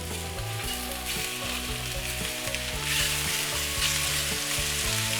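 Beef sizzles loudly and steadily in hot oil in a pan, a dense continuous crackle close up with no talk.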